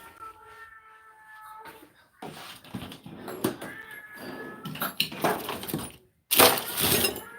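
A cat meows near the microphone during a live tool haul, its drawn-out cries mixed with clattering, glassy knocks and a person talking.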